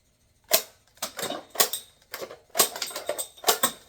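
A Buzz Lightyear toy disc shooter fires discs in a string of sharp plastic clacks, about seven close snaps spaced roughly half a second apart with brief rattling tails.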